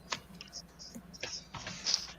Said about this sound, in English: That was my phone notification.